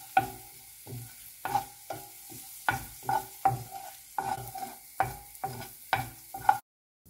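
A mushroom stuffing mixture with garlic cooks in a pan, with steady low sizzling under repeated stirring scrapes that come roughly every half second, close and moderately loud, ending abruptly.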